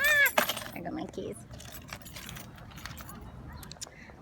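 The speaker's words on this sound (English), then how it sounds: "Ah! I got my keys." Keys jangle in a short bright metallic burst at the very start, close and brief, followed by quiet outdoor ambience.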